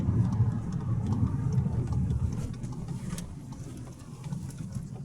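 Skoda Octavia A7 2015 with a 1.4 TSI engine, converted to run on LPG, drones steadily at low pitch while accelerating, a continuous near engine rumble that eases slightly toward the end.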